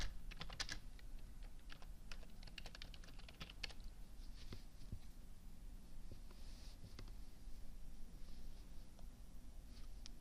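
Typing on a computer keyboard, a quick run of faint, close key clicks that thins out into scattered presses over low background hum.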